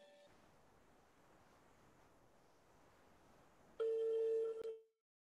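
A phone call connects over a faint hiss from an online meeting, followed by a loud electronic tone on the line lasting about a second before cutting out, with no talking.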